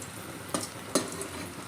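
An aloo tikki shallow-fries in a wide pan, a constant gentle sizzle topped by two quick bursts of spattering as hot oil is splashed over the patty, close up and without voices.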